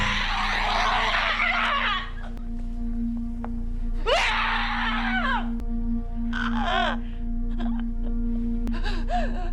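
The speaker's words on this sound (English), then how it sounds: "one of the best ending screams in a horror movie for me past the 2000s" A woman's piercing scream ends the 2012 psychological horror film Excision: a long, loud, raw cry that breaks off, then returns in a second harsh burst, with strained gasping wails after it over a steady low drone.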